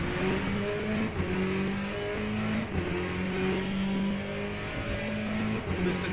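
A race car engine in the Le Mans Ultimate racing game drones steadily at high revs, its pitch stepping up and down through missed downshifts, with no speech over it.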